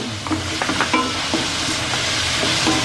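Tomatoes sautéing in a deep frying pan, a steady close sizzle with soft scraping and stirring clatters scattered throughout, no talking.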